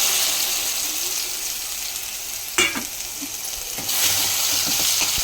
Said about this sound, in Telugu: ఈ గ్రేవీ అనేది పచ్చివాసన పోయేదాకా వేయించుకోవాలి ఫ్రెండ్స్